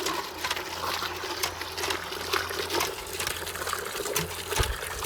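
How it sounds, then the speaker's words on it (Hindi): Water gushing steadily from a newly installed hand pump at a borewell, a loud continuous splashing rush close by with faint rhythmic pump clanks underneath. "ये रहा जी इसका पहला पानी, आप देखते कितना जबरदस्त से भर भर के पानी आ रहा है।"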